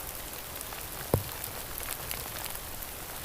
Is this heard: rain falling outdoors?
yes